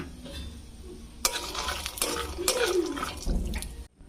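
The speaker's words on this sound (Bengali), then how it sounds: "তেল গরম হয়ে গেছে, তাতে আমি কিছু কারি পাতা দিয়ে নেব, কিছু চিনে বাদাম একসাথে ভালোভাবে ভেজে নেব।" Curry leaves and peanuts hit hot mustard oil for a flattened-rice snack, a sudden hissing sizzle bursting in partway through and crackling on with stirring scrapes before cutting off.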